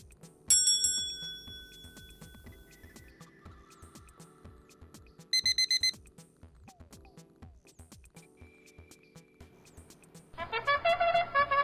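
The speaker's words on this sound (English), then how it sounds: "Each timer goes off by this amount of time after the previous interval." An interval timer on a computer goes off in a few short bursts of bright chiming tones, a brief chime near the middle and a longer, louder ringing burst at the end, over faint background clicks.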